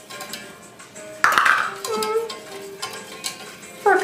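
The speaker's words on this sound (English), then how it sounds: "I'm just going to stir this" A spoon stirs milk sauce in a pot on low-medium heat for a croque-monsieur, with clinks and scrapes against the metal and a few sharper knocks, under some faint background sounds.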